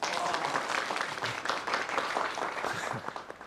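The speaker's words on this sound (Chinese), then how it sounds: "让我们用最热烈的掌声欢迎英雄归队。" An office group applauding a returning colleague, a steady patter of close hand clapping with voices mixed in under it.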